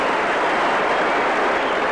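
A cricket crowd applauds a superb catch by Ian Botham with a steady, dense burst of clapping from many hands.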